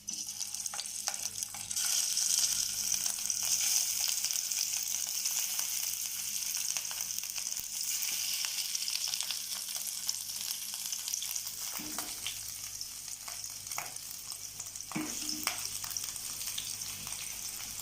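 Cabbage cubes shallow-frying in oil over a low flame give a steady, close sizzle throughout, with occasional soft scrapes and stirring knocks, and no voices.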